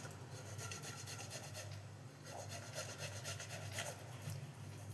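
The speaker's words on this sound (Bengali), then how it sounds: "এই জন্যে একটা পাত্র গ্রেটার নিয়ে নিয়েছি আর সেদ্ধ করা আলুটাকে ঘষে নেব।" A boiled potato is rubbed against a metal grater for aloo tikki, giving quiet rapid rasping strokes in a steady back-and-forth rhythm, close by with no talking.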